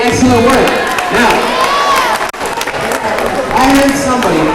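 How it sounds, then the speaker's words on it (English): Audience applause and cheering fill the room after a countdown on an education show, loud clapping with shouting voices and a host's voice over it, briefly dipping midway before swelling again. "Give yourself a round of applause"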